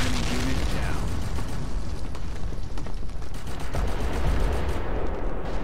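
Two guns firing in the Company of Heroes strategy game, a dense continuous rattle of shots with rumbling battle noise throughout, loud and sustained with no clear gaps.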